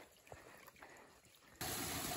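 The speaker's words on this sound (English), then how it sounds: "This waterfall goes directly onto the trail." A waterfall pours directly onto a hiking trail on the Appalachian Trail, a faint steady rush of falling water that turns much louder and denser near the end, with no voices.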